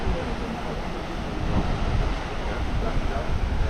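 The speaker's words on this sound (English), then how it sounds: "You walk through a cave to get to the surge of the swell of the waves." Ocean waves surge and roar steadily at Uluwatu cave in Bali, a dense continuous wash with wind buffeting the microphone throughout.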